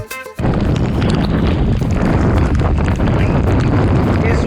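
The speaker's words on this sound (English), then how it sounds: "It's windy and rainy, not just rain." Strong wind buffets the microphone during a rainy bike ride in Poland, a loud, continuous roar that begins abruptly after a brief pause and stays steady throughout.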